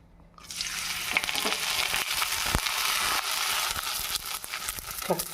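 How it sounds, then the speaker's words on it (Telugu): Sago vadiyalu dropped into hot oil burst into a loud, bubbling fry that starts abruptly and holds steady, with crackles and a few sharp pops close by, no talking. "ఇదిగోండి ఆయిల్ వీటెక్కింది కదా, వేసుకుందాం వడియాలు."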